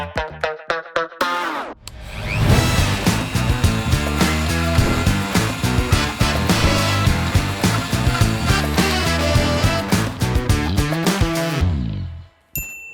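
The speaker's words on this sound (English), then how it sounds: "allows you to rest the Dremel onto the laminate and get a really clean cut" Dremel rotary tool fitted with the 561 cutting accessory at speed 10 slicing through laminate flooring, a loud, steady high-pitched whine with a grinding edge, starting and stopping with short bursts at each end.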